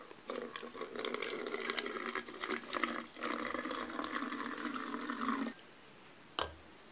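A warm homemade disinfectant mixture for bedding is poured into containers, a close gurgling liquid stream running steadily for several seconds, briefly interrupted, then stopping, followed by a single bump.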